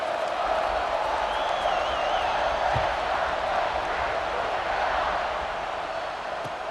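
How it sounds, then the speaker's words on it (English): Stadium crowd noise from the college football video game EA Sports College Football 26, a steady dense roar of a buzzing crowd after a score, continuous and fairly loud with a faint whistle-like tone passing through. "this crowd is buzzing after that last score"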